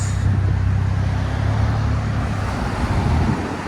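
Steady low exhaust drone from a 2023 Hyundai Santa Cruz 2.0L turbo with dual exhaust, cutouts open and resonator deleted, heard close and continuous with a rumbling low end and no talk over it.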